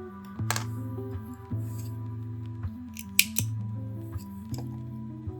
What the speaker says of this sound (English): I'm going to pull the yarn through and cut it.